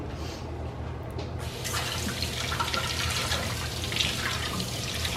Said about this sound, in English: now I'm going to wash my zucchinis